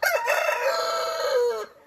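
A rooster crows once in a chicken coop, a loud, close, drawn-out cock-a-doodle-doo lasting under two seconds and cutting off sharply at the end.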